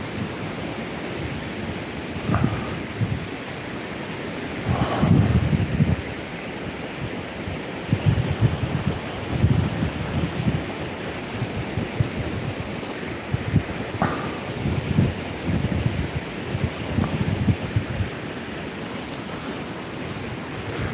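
Ocean waves wash and break continuously, with a steady rush of wind buffeting the microphone throughout; surges swell every few seconds.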